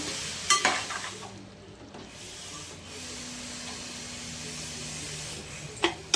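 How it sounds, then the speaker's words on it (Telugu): Chicken curry with drumstick leaves and garam masala stirred in a frying pan, a quiet sizzle under scraping spoon strokes with a couple of sharper knocks at the start and end, no talk. "మసాలా యాడ్ చేసిన తర్వాత మంచిగా కలుపుకొని"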